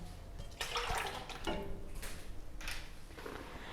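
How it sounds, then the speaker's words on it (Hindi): Dried plums (aloo bukhara) in their soaking water bubble and churn at a boil in a pan, a continuous watery rushing close by with surges in intensity. "आलू बुखारे को बॉयल आ चुका है"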